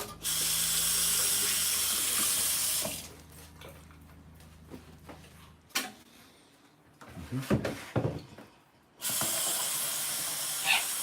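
A kitchen tap runs hard, loudly filling a container with a steady rushing hiss for about three seconds. Quieter clatter and handling sounds follow, then the tap roars on again at the end.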